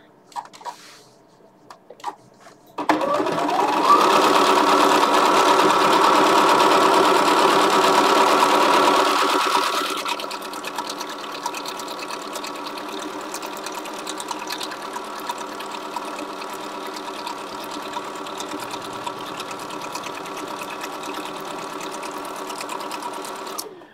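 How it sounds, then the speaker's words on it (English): A Kaffe Bernina sewing machine stitches down the first layer of a French roses quilt. The motor's steady mechanical whir is loud and close, runs fast for several seconds, then drops to a lower, slower hum that continues to the end. "This first layer is the easiest one to stitch down"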